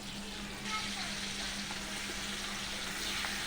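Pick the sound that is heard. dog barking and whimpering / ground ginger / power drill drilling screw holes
ground ginger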